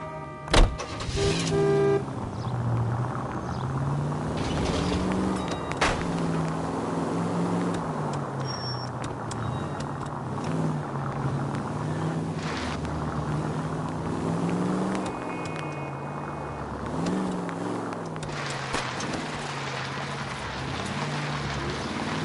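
A car drives in the video game L.A. Noire, its engine humming steadily at mid level with small pitch swells as it speeds up and slows, and a few brief clicks and tones over it.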